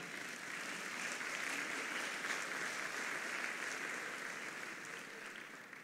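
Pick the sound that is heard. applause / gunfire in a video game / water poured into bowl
applause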